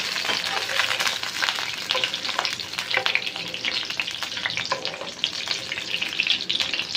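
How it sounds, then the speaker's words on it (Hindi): Garlic frying in warm ghee for a chana dal tadka, a steady dense sizzle with occasional stirring, loud and close throughout with no talk. "अब हम इसके अंदर ऐड कर देंगे लहसुन। सबसे पहले तो फ्राई करेंगे।"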